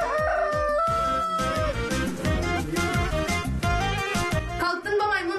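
A rooster crows loudly near the start, with a drawn-out call over busy, layered music and sound effects that continue at a strong level to the end.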